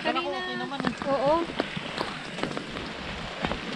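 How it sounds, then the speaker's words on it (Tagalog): Heavy rain drums steadily on a secondhand tent in the countryside, a dense close patter that goes on without a break while a voice briefly talks over the start. "Ang lakas pala ng ulan mo."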